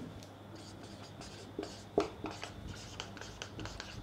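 A chemistry name, Caro's acid, written on a board: faint, scratchy strokes with one sharper tap, low and steady over a quiet room hum and a soft background murmur.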